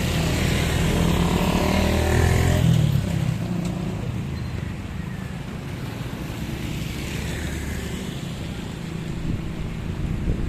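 A steady rushing wash of water with motorcycle engines droning underneath, loud and continuous, as motorcycles push through deep floodwater on a road.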